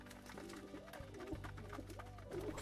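Several pigeons in an aviary give soft, repeated cooing calls over a steady low background, fairly close and quiet, with no speech.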